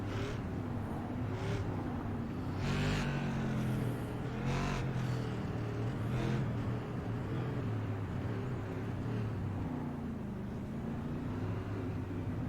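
A Whelen Modified tour race car at New Smyrna heard from onboard, its engine droning steadily at moderate volume with a few rising surges as it weaves to warm the tires, no talk.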